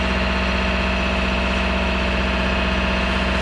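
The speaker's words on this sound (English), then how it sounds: "Excuse me, while I alter course under engine power." A sailing yacht's engine runs under power out at sea, a steady, loud, droning hum with a fine rhythmic throb that continues unbroken throughout.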